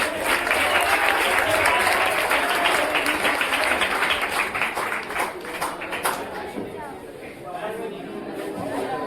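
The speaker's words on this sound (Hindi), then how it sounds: "जोरदार तालियों से इनका स्वागत करें।" An audience at a Teachers Day celebration in a coaching centre in Barbigha claps steadily to welcome a speaker, the dense applause loud and sustained before thinning slightly, with murmured chatter mixed in.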